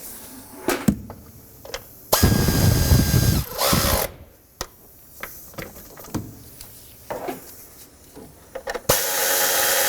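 A power tool tightens the knock sensor bolts on a 2003-2009 Toyota 4Runner with loud, close buzzing bursts. One long run is followed by a shorter one, with metallic clicks and clunks between them and a final burst at the end.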